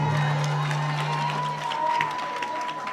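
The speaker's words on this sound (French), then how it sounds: "je vous demande d'applaudir très fort." Audience applause for a pageant candidate at the Miss Afrique Suisse contest, a steady wash of clapping and some crowd noise held at an even loud level throughout, with a low sustained hum running underneath.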